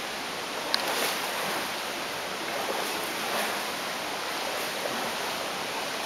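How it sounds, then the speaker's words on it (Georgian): A waterfall in Martvili canyon, heard as a constant, even broadband rush of falling water with no pauses, fairly loud and close, with faint bits of background noise and no speech. "რა ხმა, ჩანჩქერი ჩამო"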